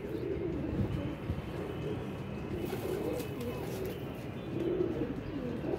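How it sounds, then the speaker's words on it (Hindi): Pigeons cooing softly in a low murmur, with continuous background noise and faint voices in the space around them. "ये गया जी दोस्तों कबूतर है माशाल्लाह"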